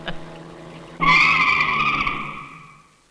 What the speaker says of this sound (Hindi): आपने गाड़ी क्यों रोक दी?